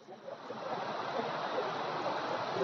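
Steady rushing water at Putudi Waterfall in Kandhamal, a continuous broadband roar of water falling from above, heard alone at moderate distance without talk.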